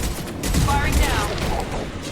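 Rapid gunfire in Mass Effect 2 aboard the Collector ship, a dense burst of close, loud shots with a voice speaking over the shooting.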